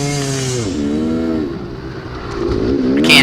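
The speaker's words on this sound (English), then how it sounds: "I can't get any power, can't get any speed out of my bike. Just revving out on me." Dirt bike engine revving hard while climbing a hill in a youth race, its pitch rising and dipping as it revs out without gaining speed, loud and close.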